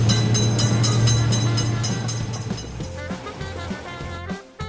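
A train rumbles past a level crossing in a railway crossing video game, a loud steady drone with a low hum and rhythmic clatter that gradually fades near the end.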